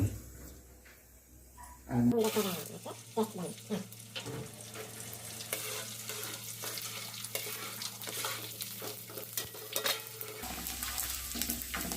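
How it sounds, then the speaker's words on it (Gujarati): Steady sizzling and frying of edible gum in hot ghee runs through most of the clip, with occasional stirring clinks and a voice talking over it. "ગુંદર ને બહુ શેકાતા વાર નથી લાગતી"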